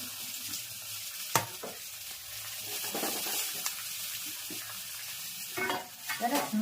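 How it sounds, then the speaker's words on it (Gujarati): Patra pieces with curry leaves are tempered in hot oil, giving a soft crackling sizzle with intermittent sharp pops and spoon stirring against the pan, fairly quiet and close. "સરસ મજાનો પાતરાનો વઘાર થઈ ગયો છે"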